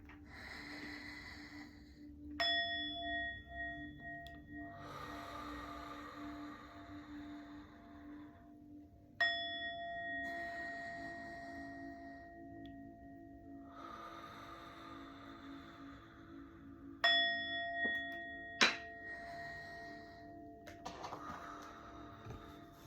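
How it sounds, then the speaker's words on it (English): A singing bowl is struck three times, well spaced. Each strike leaves a steady bright ring that sustains and slowly fades, heard alone in a quiet room with soft breathing-like noise underneath. "I'm going to ring the singing bowl"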